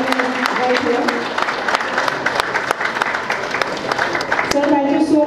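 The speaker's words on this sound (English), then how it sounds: "Can you please have a huge round of applause, ladies and gentlemen" Audience applause at a clubhouse inauguration at Dosti West County, steady clapping filling the room for several seconds, with talk and a voice on a microphone coming through near the end.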